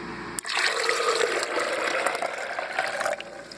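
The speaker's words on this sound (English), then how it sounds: "and here comes the water." Water pours steadily into a blender over soaked legumes for about three seconds, a continuous splashing rush that starts abruptly and tapers at the end.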